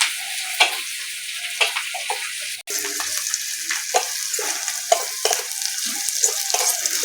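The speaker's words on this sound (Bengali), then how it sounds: "কুচি দিয়ে রাখা পেঁয়াজ দিয়ে দেবো। পেঁয়াজটা একটু নেড়ে চেড়ে ভেজে নেব।" Chopped garlic and onion sizzle steadily in a hot pan, with repeated scraping stirs breaking through the constant frying hiss, close and fairly loud with no voices.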